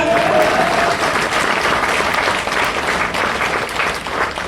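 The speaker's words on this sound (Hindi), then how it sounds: "एक बार तालियां बजा सकते हैं क्या?" Loud, sustained applause from a seminar audience at a business training session, many hands clapping in a thick continuous roar for several seconds.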